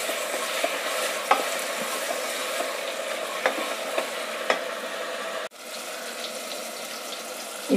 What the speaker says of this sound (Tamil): நல்லா புதினா தழை, இது நல்லா வதங்கட்டும்.